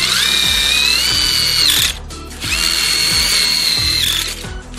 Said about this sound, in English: Now what we're going to do is pre-drill all our holes with a 1/4 inch drill bit.